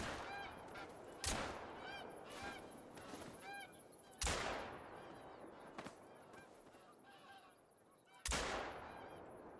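Geese in TheHunter: Call of the Wild honk repeatedly in overlapping calls from a small flock, moderately near, while three loud rifle shots crack at intervals and echo over the scene.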